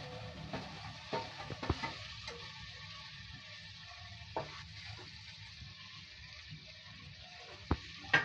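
Tomato paste added to fried ginger, garlic and onion in a pan for a pabda fish curry, a low simmering sizzle with occasional stirring clinks and scrapes, close and fairly quiet.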